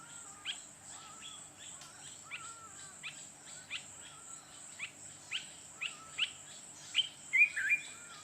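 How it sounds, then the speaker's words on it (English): Birds in South Luangwa, Zambia, give a series of short, regularly spaced chirps, growing slightly louder toward the end, over a constant high insect drone in a quiet outdoor setting. "Bird."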